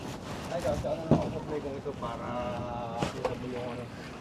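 A small outrigger boat on Taal Lake, with wind noise and a low rumble of the hull and motor running under close conversation between passengers.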